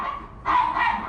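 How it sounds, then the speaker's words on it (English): A feisty dog gives two quick, close barks, the second a longer yelping bark, loud and alone. "And it's a feisty dog, right?"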